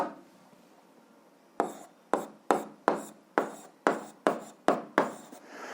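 Math answer written by hand on a school algebra exercise, nine or ten sharp, evenly spaced strokes tapping and scraping close by after a brief quiet stretch, with no talking.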